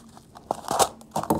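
Scissors cutting open the staple on a package holding a live feeder-insect box, with crinkling, tearing and crunching of packaging in short uneven bursts, close and moderately loud.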